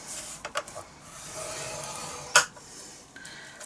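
Paper is scored on a Stampin' Up scoreboard with a few soft scraping strokes and light taps, one sharper close scrape midway, in an otherwise quiet room.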